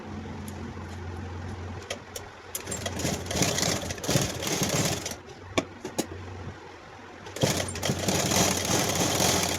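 Electric sewing machine stitching a V-collar suit, a steady motorized whir running in bursts with brief pauses and sharp clicks between runs, close and fairly loud throughout.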